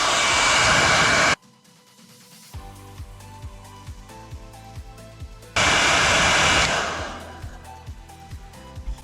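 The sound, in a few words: hair dryer blowing hot air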